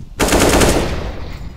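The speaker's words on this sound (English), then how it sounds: "Throwing fire. Flashbang." A loud, close burst of rapid automatic gunfire from a video game firefight, one dense volley that fades out over about a second.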